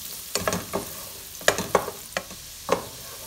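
Chopped or grated onion sizzles in a pan as it starts to brown, with a steady frying hiss broken by several sharp scraping stir strokes at uneven intervals, close and moderately loud, no talking.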